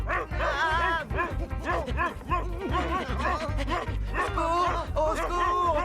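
Cartoon dog barking and yipping in rapid, excited bursts, loud and close, mixed with frantic character voices and background music throughout.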